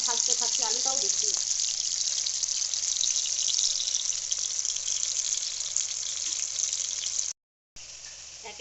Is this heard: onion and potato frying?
yes